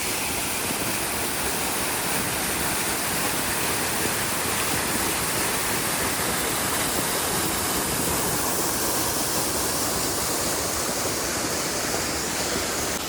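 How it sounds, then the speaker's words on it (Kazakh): Auliye Bulak waterfall near Isakovka village in Akmola region, a steady, loud, broadband roar of falling water that fills the whole stretch without pause or voices. "Біз бұл сарқырамаға келдік."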